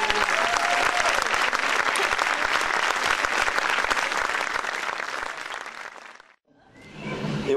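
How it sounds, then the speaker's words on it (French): A concert audience at an outdoor summer evening show applauds loudly and steadily for several seconds, the clapping fading out before a short renewed burst. "Je vous demande de bien vouloir l'applaudir."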